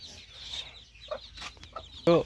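Local free-range chickens cluck softly in short scattered bursts, with a louder rooster call near the end; no talking.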